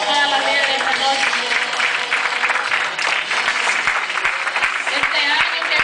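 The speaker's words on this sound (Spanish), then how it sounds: "le da un fuerte aplauso a todas las mujeres de esta noche" Loud, dense applause from a church congregation standing to honor the women at an evening service, continuous throughout with scattered louder claps and some voices mixed in.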